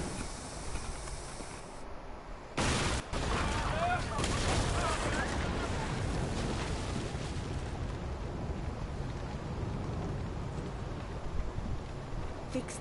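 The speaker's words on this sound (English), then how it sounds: "She's got cannons. Fire!" A loud broadband blast bursts out, then a long roaring, hissing rumble lingers, like heavy ship cannon fire with its echoing aftermath, in Assassin's Creed Odyssey.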